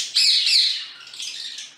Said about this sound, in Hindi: मुल्तान की खातून ने मुख्तलिफ परिंदों से लगाव के लिए अपने घर में तोते पाल रखे हैं